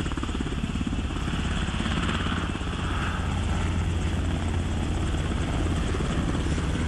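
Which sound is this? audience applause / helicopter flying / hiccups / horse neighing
helicopter flying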